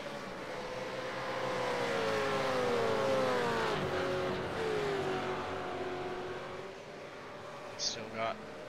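Race cars in the iRacing video game at Sebring International, a Supercars championship round, engines droning and shifting pitch as cars pass, with a commentator talking over them.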